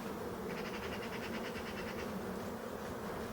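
Asian hornets and honeybees buzz around a beehive in Brittany, a continuous close insect drone with a louder hovering buzz passing through the middle.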